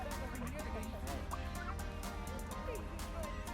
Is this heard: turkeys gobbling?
yes